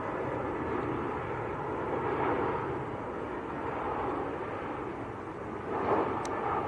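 An EasyJet airliner on short final approach to Manchester Airport gives a steady broadband roar with a low rumble beneath. It holds at a constant moderate level for the whole stretch and swells slightly near the end.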